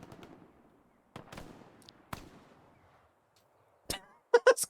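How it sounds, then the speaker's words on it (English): Grenade explosions in the Hell Let Loose war game come as sharp, separate bangs spaced through quiet gaps, each with a short rumbling decay. A quick cluster of louder blasts closes the sequence. "Grenades, wiping them out"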